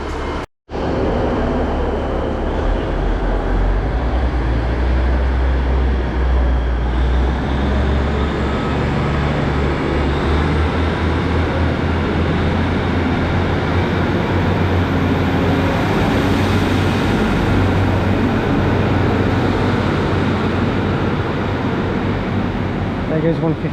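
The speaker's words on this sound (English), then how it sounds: "watch the train leave" A Great Western Railway diesel train pulls out of Torquay station, a loud close continuous rumble and hum of rolling stock and engine that holds steady and slowly shifts in tone, with voices heard over it.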